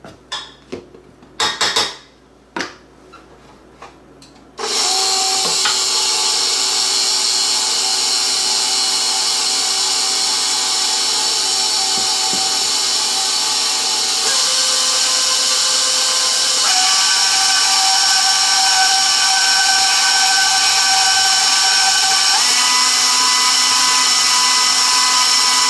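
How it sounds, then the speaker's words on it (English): Electric mixer running on high as it beats chocolate frosting, starting after a few clattering knocks and then holding a loud, steady whirring drone with small shifts in pitch for over twenty seconds, with no talking. "Then we're going to let this mix on high until it becomes nice and fluffy."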